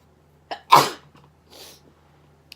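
A single loud, close sneeze bursts out alone, preceded by a short sharp inhale and followed by a faint breathy exhale.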